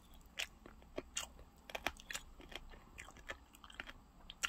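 Someone bites and chews meat close up, with crisp, irregular crunching bursts and wet chewing sounds repeating throughout, and no talking.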